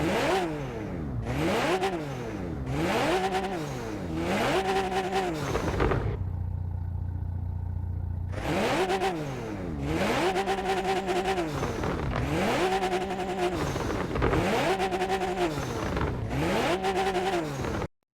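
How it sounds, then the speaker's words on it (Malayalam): Modified exhaust on a Toyota Supra revving hard in repeated rising and falling sweeps, loud and close, with a short idle pause midway before more throttle blips. "ഇതാണ് നമ്മുടെ സുപ്രയുടെ എക്സോസ്റ്റ് നോട്ട് എന്ന് പറയുന്നത്"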